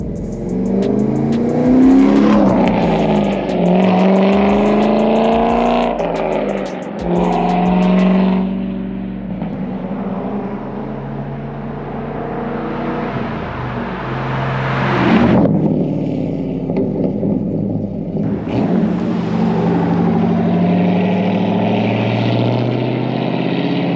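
A recently repaired and upgraded Chevrolet Corvette driving and accelerating, its loud engine note climbing through several rising pulls with short dips between shifts, heard alone without talk.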